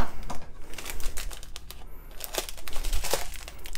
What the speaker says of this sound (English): I'm going to cut each one apart.